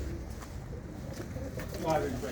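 Pigeons kept in a loft coo steadily beneath a voice talking over them, amid a dense, noisy background.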